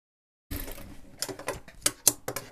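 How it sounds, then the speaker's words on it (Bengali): A sewing machine stitches a salwar in a short burst of quick, close mechanical clatter that starts abruptly after a moment of silence and runs unevenly, with no talk. "আমরা হলো তিনটা সেলাই দেই আমরা হলো তিন সেলাই দেবো"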